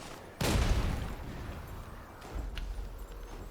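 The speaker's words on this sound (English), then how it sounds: "Then you can actually fire this cannon, it'll set off the mines." Cannon blast in the game WUCHANG: Fallen Feathers setting off mines: one sudden loud boom followed by a long rumbling tail, then a second lower explosive rumble with a short sharp crack.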